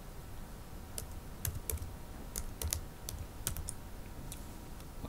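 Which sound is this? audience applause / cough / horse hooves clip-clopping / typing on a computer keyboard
typing on a computer keyboard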